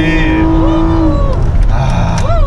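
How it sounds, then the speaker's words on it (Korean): A Kia Carnival's six-cylinder engine without muffler work hums loud and close inside the cabin as revs rise and fall, with voices chatting over it. "하고 싶은데 이 엔진 소리가 미칠 것 같아."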